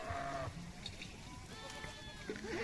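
Sheep and goats of a herd driven by nomadic Bhotia herders bleat in a forest, several wavering calls rising over steady rustling background noise, moderately near, with no talk.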